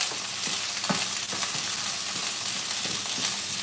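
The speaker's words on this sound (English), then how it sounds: "I'm gonna start sauteing this up." Chopped habanero-like pepper sautéing in a hot pan for a weight-loss dinner, a steady soft sizzle with periodic scraping stirs, close up and fairly quiet, with no voices.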